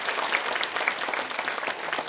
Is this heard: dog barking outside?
no